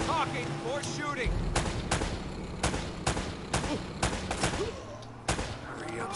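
Gunfire in the action-adventure game Uncharted, a series of sharp, loud shots in uneven bursts over battle noise, with voices talking between them.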